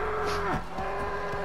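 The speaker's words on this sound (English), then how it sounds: "Yeah, that's a lot of bison." Bison in the Until Dawn video game let out a loud, drawn-out moo with a falling pitch, followed by a second, lower moo. The calls are close and clear, with no speech over them.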